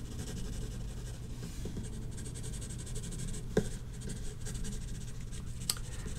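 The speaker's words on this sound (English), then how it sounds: "I'm going to use the side of the pencil" A pencil shades on paper with the side of its lead, giving soft continuous scratchy strokes close up, steady and even, broken by a couple of sharper taps.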